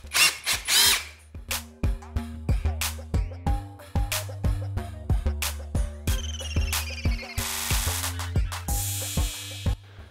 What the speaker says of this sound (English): we're going to use a 13mm drill bit to drill out those holes for the body clips